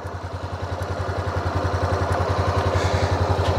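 A Honda CB300F motorcycle engine idling at about 2000 RPM, a close, loud, steady pulsing thrum that rises slightly in level and keeps an even beat throughout.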